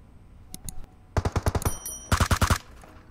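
Suppressed gunfire in the battle-royale game PUBG: a few scattered shots first, then two quick bursts of sharp muffled pops in a steady rhythm, loud and close, with no talking.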